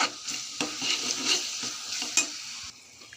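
A spatula scrapes and stirs through a sizzling pan of dosakaya tomato curry with chilli powder, with a few sharp clinks against the metal, close and fairly quiet, no talking.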